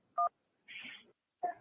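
Telephone keypad tones sound as a radio show call-in host dials out to the phone lines: three short, clean beeps separated by brief pauses, clear and close, with no talking.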